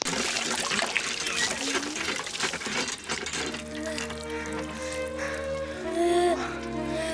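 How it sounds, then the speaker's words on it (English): Water pours and trickles over a girl's hands at an outdoor pump in a film scene about teaching a deaf-blind child, splashing steadily beneath music and voices. "by pouring water over her hands"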